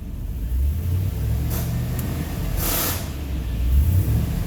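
A failing AC compressor on a Chevy Silverado engine runs at raised RPM, a loud steady mechanical drone with a rising rev and a brief hissing whoosh midway.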